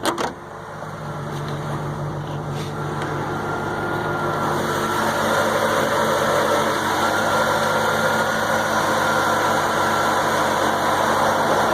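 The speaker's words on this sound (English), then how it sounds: "I love that motor too. Looks cool, sounds cool." A 1995 C4 Corvette with a 6-speed and light modifications idles steadily with the hood open, a continuous, even engine rumble that stays close and fairly loud throughout with no talking.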